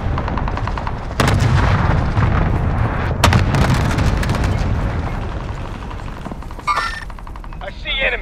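Dense automatic gunfire in Call of Duty: Modern Warfare, loud continuous bursts of shots with booming impacts, easing off near the end, with a voice partly over it.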